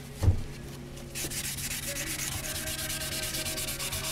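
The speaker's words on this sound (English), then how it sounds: "once this is sanded, I'll get them all sanded down" Parts from a Yamaha RZ350 motorcycle under restoration are sanded by hand, a steady close scratchy rubbing that starts after a brief thump and continues evenly with no talking.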